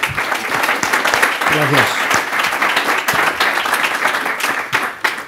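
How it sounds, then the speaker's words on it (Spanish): An audience at an ecommerce logistics talk applauds the speakers with a full, sustained round of clapping while someone briefly speaks over it. "Un aplauso para ellos, por favor."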